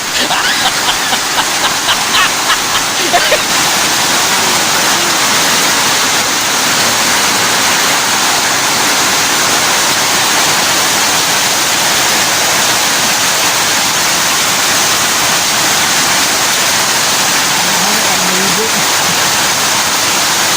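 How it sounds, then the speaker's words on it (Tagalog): A loud, continuous downpour hisses steadily throughout, a dense wash of noise with faint voices briefly audible beneath it. "Nagkatusog yun ang ulan."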